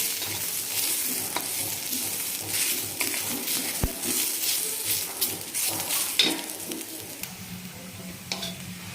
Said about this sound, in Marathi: तर कांदा पण आपला छान भाजत आलेला आहे तर थोडंसं तेल टाकते